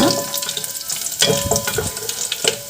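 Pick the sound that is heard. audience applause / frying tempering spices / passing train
frying tempering spices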